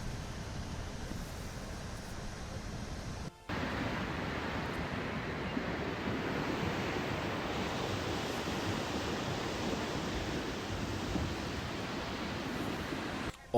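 Rain floodwater rushes past houses in Rajouri, Jammu and Kashmir, a steady broadband roar of churning water with no talk, briefly cut once before continuing unchanged.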